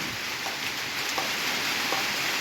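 Steady rain falling, a dense even hiss with faint scattered drips, no voices.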